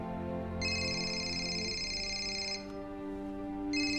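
A telephone rings with a bright, steady electronic trill, sounding in two long bursts separated by a short pause, over a low droning background of music or ambience.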